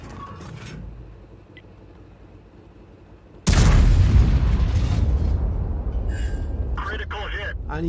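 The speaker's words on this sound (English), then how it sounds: "Demontaxidriver is continuing to fire on the enemy." Artillery fires at an enemy tank in a tank battle video game, a single sudden heavy boom followed by a sustained low rumble, heard under ongoing commentary.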